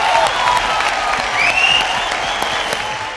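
Studio audience applauding on the stage of an Odia TV show, with steady, dense clapping that holds loud and even for the whole stretch, with a faint crowd murmur under it.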